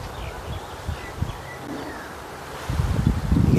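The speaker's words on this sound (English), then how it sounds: "Hear the wind coming through the trees now." Wind gusts through trees outdoors, a soft broadband rush with faint rustling and light buffeting against an unshielded microphone, growing stronger near the end.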